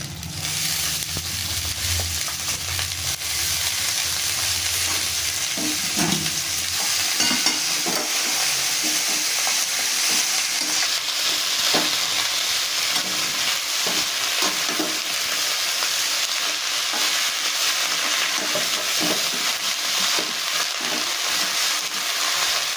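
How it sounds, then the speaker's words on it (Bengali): Shredded cabbage fries in a hot wok with ginger and green chilli, a continuous close sizzle broken by scraping, clattering stirs of the spatula, with no talking. "এবার আমি কপিগুলো দিয়ে দেবো কড়াইয়ের মধ্যে"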